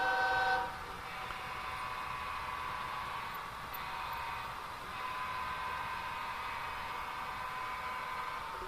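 An HO scale model train horn sounds once in a short sustained blast near the start, followed by a steady tonal hum and faint layout background noise.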